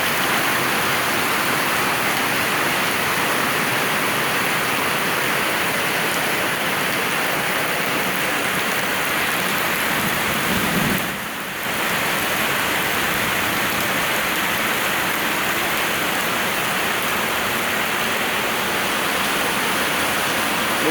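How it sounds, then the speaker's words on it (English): Heavy rain pours steadily at night over an RV campground in Georgia, a dense, continuous hiss close by and alone, with one brief dip in the downpour partway through. "a rainy night in Georgia at Camper Van Kevin's RV Basecamp."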